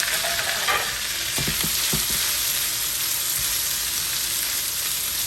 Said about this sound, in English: I'm gonna let this all stir fry for like about a minute or so.